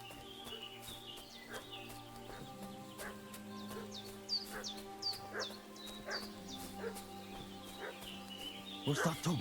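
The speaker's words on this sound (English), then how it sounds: "What's that dog making such a fuss about?" A dog in a video game barking and yipping repeatedly in short excited bursts, fairly close, over a quiet game background with a louder flurry at the end.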